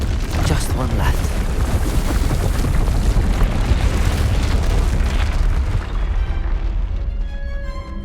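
A Depulso spell is cast in the video game Hogwarts Legacy, bursting out as a loud, sustained blast of rumbling, explosive noise that fills several seconds before thinning out toward the end.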